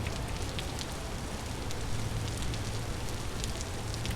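Steady rain pours down in the survival game Vintage Story, a dense, even hiss of drops with scattered brighter patters, continuous and fairly loud with no speech.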